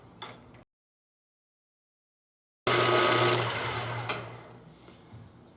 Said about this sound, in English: we're gonna get our hole in so we can do our tap. And let's run that in there.